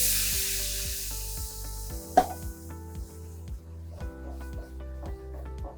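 Red wine poured into a hot pan sizzles steadily up close, with repeated scraping strokes against the pan bottom and one brief sharp clink near the start.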